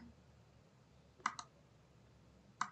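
A computer mouse clicks faintly while an add button is pressed in school report software: a quick double click, a pause, then one more click over a quiet room.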